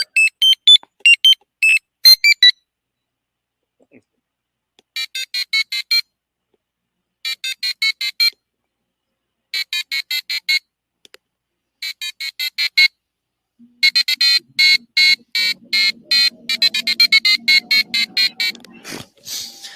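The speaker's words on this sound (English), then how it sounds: "So those are from the original Mario tunes" Short bursts of high, thin electronic beeping melodies from original Mario video game tunes, played in separate phrases with silent gaps between them, then a longer busier passage with faint talking underneath near the end.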